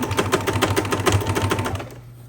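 A sewing machine stitches a fabric earbud pouch in a fast, even, close run of mechanical needle thumps for about two seconds, then stops, leaving a quiet hum.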